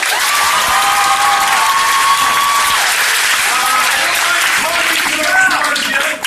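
Reunion audience at a hypnotist show bursts into sustained, dense applause with scattered cheers and whoops, loud and steady throughout, with a few voices calling out near the end.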